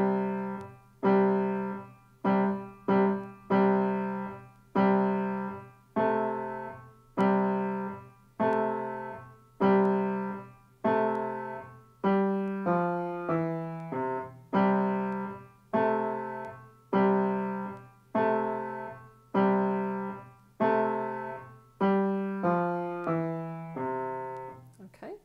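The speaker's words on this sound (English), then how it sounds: "I'm going to play the left hand all the way through from the beginning to the end of bar 10" Left-hand piano part of a piece, bars 1 to 10, played alone as a steady run of low and mid notes in an even, repeating rhythm, close and clear with no talking.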